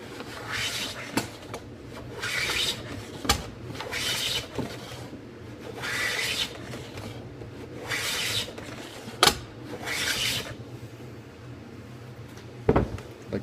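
A hand plane shoots the edge of an ebony fretboard strip in repeated strokes, each pass a hissing rasp about a second long, separated by short gaps and a few sharp knocks of the tool.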